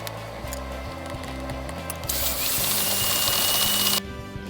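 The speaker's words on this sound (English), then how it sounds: "Cream them until white, pale and fluffy, minimum 5 minutes, scraping the sides in between." An electric stand mixer creams unsalted butter at room temperature until it is pale and fluffy. Its steady motor whine rises in pitch partway through and drops back near the end, with no talking.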